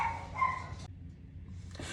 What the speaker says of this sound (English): I had to pause the video because my dogs went into a barking frenzy.